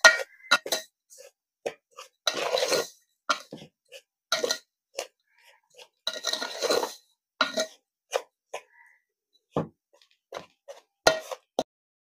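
Mango pickle ingredients are mixed by hand in a bowl, giving scattered close clinks, taps and wet squelching bursts separated by short quiet gaps.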